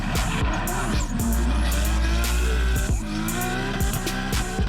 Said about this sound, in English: Dawid Karkosik took 2nd after a super smoky drift